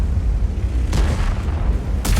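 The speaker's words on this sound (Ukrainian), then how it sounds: "Бабаха, по-моєму, стрільнула і не влучила чи що." Heavy tank gun fire in a World of Tanks-style battle, with two deep, booming blasts about a second apart over a constant low rumble of engine and battlefield noise, distant rather than close.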